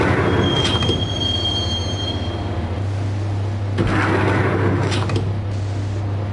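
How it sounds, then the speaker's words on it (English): A train rides toward Roscoe Street Station in the video game Max Payne, wheels squealing in long metallic tones over a steady rumble, with a low hum setting in partway and a louder screech near the end. "the train doors had already shut behind me, and I was in for the ride"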